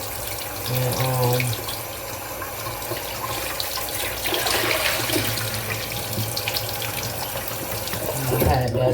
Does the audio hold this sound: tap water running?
yes